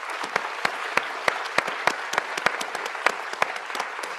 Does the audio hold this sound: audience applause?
yes